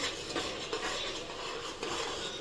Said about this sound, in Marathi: मस्त असं परतून घेऊयात कांदा तमालपत्र वगैरे सगळे खडे मसाले आहेत याच्यामध्ये